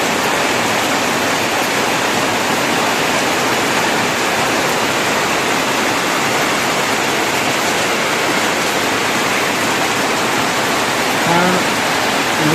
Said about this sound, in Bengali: গ্রামে আমাদের বৃষ্টি হচ্ছে, আজ 3 দিন থেকে এক লাগাতার বৃষ্টি।